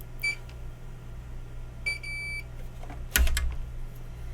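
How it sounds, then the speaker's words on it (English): A multimeter in continuity mode, giving short electronic beeps during an Xbox One S HDMI port repair, with a couple of brief tones and a clatter near the end, all faint and close. "Now, going to make it go beep beep."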